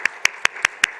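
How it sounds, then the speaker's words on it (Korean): A church congregation claps in praise during a Sunday service, giving six sharp, evenly spaced claps in a quick steady rhythm, loud and close with no voices. "하나님께 영광의 박수로 드리겠습니다."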